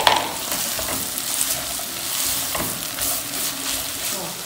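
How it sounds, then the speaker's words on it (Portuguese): Chopped onion and garlic frying in a pan, giving a steady, moderately loud sizzle with faint stirring scrapes and no talking. "Já demos uma fritadinha na cebola e no alho."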